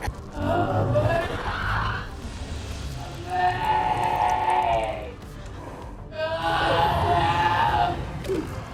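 A voice imitates a monster, producing three drawn-out, raspy screaming growls separated by short pauses, loud and close.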